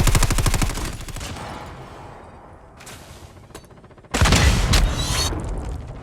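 Grenade blasts and bursts of gunfire in the mobile shooter Call of Duty Mobile, with rapid shots up front, a quieter lull, then a loud sudden explosion near the end.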